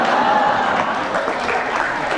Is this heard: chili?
no